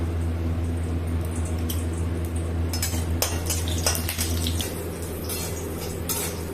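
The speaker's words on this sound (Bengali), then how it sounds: "তারপরে একটু বড়িটা ভেজে নেবে হালকা করে।" Lentil dumplings (bori) fry in mustard oil in a kadai, giving a steady close sizzle over a low hum, with scattered scraping and utensil clicks in the middle.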